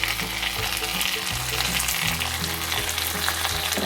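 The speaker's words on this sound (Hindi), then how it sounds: "अंदर 1 टेबलस्पून अदरक लहसुन का पेस्ट डालेंगे, थोड़ा सा भूनेंगे" Ginger garlic paste frying in a pan, a loud, steady sizzle with crackling spatter running throughout, close by and without any voices.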